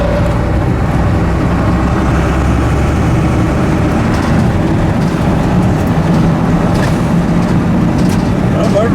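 Engine of an old 1980s tow truck hauler running steadily throughout, a loud continuous low rumble with people talking over it.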